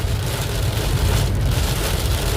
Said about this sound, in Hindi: बहुत तेज़ एकदम से बारिश शुरू हो गई है समाना में।